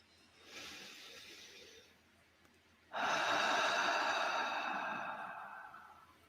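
Deep, slow breathing during a mindfulness exercise: a soft breath in, a quiet pause, then a longer, louder breath out, close and alone.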